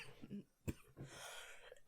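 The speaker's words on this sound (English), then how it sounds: "Sorry, just coughing up my lung." A single sharp cough bursts out amid a casual spoken chat about playing guitar as a teenager, with talk and throat noises before and after it.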